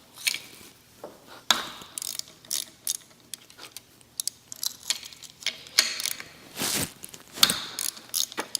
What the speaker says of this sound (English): you're going to take a 19 millimeter or 3/4 inch socket or ratchet and remove the oil return